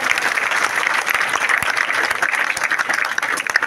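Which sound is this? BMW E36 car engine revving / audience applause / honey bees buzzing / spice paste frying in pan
audience applause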